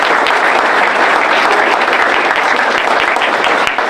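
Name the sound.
audience applause for Thomas Himmler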